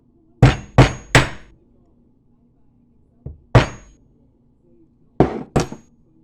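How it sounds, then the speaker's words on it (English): Sharp hammer blows ring out on a metal link: three quick strikes, a light tap, a single hit, then two more, with quiet pauses between. "then we're using the hammer method"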